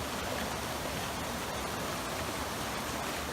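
Steady broadband rush of stream water flowing over rocks at The Basin in Franconia Notch State Park, constant and fairly close, with no voices.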